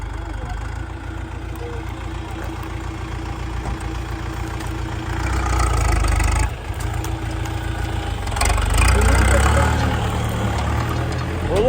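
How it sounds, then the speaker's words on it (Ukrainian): A small tractor pulling a seed drill while sowing oats in a dry, dusty field: a steady engine chugs and rumbles throughout, swelling louder in places, with no clear talk over it. "приїхав брат своїм тракторцем, з сівалкою. І сіємо."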